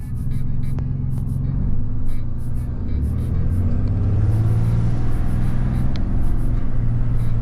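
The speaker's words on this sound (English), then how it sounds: "listen to that freaking whine. It definitely opens up the gateway for the turbo a lot" A 2021 Ram 2500 pickup fitted with a Banks cold air intake idles and revs with a low engine rumble, while a thin high turbo whine rises and holds above it, close and steady with no talking.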